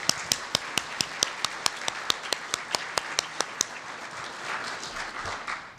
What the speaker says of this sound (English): let's give her all a big round of applause for helping out today.